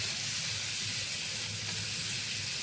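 Potatoes coated in spices fry in a pan for a Bengali egg and potato curry, giving a constant close sizzle and hiss without pause.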